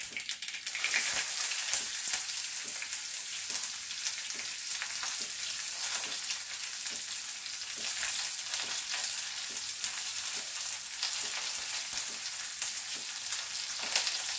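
Small shallots and red chillies frying in hot oil with mustard seeds for a Kerala cherupayar coconut curry, a dense continuous crackling sizzle with rapid popping, steady and close throughout with no voices.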